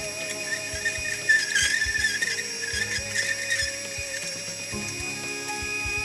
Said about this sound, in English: there's still stuff being worked down into the juicer. So I don't want to turn it off just yet.